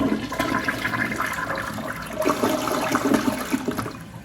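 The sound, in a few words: Project Source Pro-Flush dual flush toilet flushing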